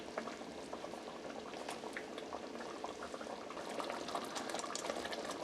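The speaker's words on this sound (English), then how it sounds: "It's boiling. It's hot. It's nice and thick." A thick coconut curry with vegetables boils in a pot, with dense, continuous bubbling and popping at close range and steady loudness, no voices.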